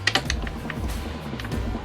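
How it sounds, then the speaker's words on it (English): A steady mechanical whirring hum of a boat's oil extraction pump motor running, with light clicking and ratcheting ticks over the top. "I can hear the motor running."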